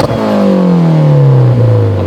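A Mitsubishi Evo 7 with a modified exhaust revs hard and loud nearby, its engine note sweeping steadily downward as it settles, with a short pop near the end.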